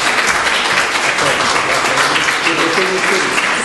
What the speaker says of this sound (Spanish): Un fuerte aplauso, bienvenida